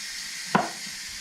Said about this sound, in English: Try and cut the potatoes up about the same size if you can.